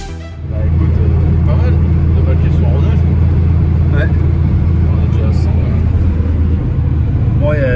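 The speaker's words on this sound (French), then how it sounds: "Sûr que l'échappement il est un peu bruyant quand même." Volkswagen Corrado G60 engine running with a loud exhaust, a deep, steady low rumble that holds for most of the stretch before dropping away near the end, with a voice talking over it.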